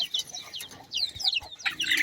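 Native chickens cluck in a lively flock, with several birds giving short, overlapping clucks and chirps close by, and small chicks chirping among them.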